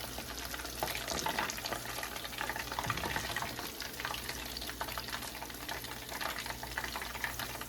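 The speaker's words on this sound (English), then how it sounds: "now I'm going to fry my snapper" Snapper fish frying in hot oil for a Ghanaian groundnut soup, a steady dense sizzle and crackle running loud and close for the whole stretch with no voices over it.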